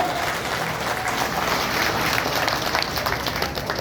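A crowd claps steadily and densely throughout, a sustained burst of applause at even loudness with no voices standing out.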